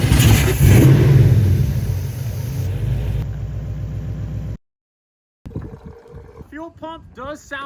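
A Nissan VH45 V8 engine rumbles loudly and revs before cutting off abruptly. After a short silence someone speaks over low background noise.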